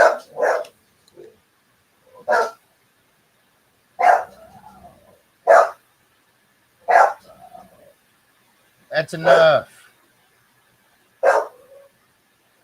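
Several dogs bark in short bursts spread across the clip, some sharp yips and deeper woofs with a brief whine, fairly close, while someone speaks briefly between them.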